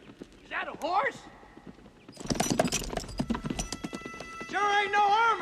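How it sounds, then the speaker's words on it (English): Horse hooves clip-clop in uneven bursts, fairly close, with a horse neighing and whinnying at the start and end, while people talk in between. "Is that a horse?"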